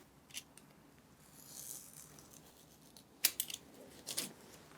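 Scissors snip through paper beside a ruler, a few quiet cuts early on, then a sharper cluster of crisp snips near the end, with no talking.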